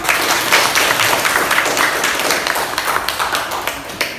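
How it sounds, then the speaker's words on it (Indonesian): Sustained applause from a seated group in a classroom during a university teacher-training session, dense and steady clapping with no pauses, close and fairly loud throughout. "Bagus sekali tepuk tangan."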